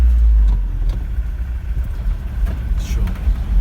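A car's engine hums steadily on the road during a driving lesson as the gears change, a low rumble running under an instructor's voice.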